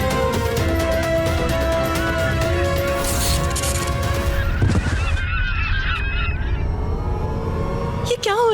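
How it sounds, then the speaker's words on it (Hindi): A large flock of geese-like birds honks loudly in a TV drama scene, many overlapping calls over a dense, busy soundtrack with a crash-like burst midway. "पक्षियों का समूचा झुंड आ रहा है।"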